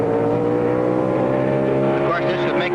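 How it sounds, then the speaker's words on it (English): Race car engine droning steadily as Gurney's car slows into the pits for a refueling stop during an auto race, a sustained loud tonal hum with a rising whine near the end, under crowd and announcer-like background. "here's Gurney coming to the pits now for his refueling stop"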